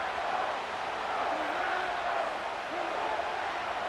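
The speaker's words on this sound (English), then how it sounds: "This crowd into it now as we get to third down" A stadium crowd in the Madden NFL 25 football video game rumbles with a steady, fairly faint roar and some rising shouts as a third down approaches.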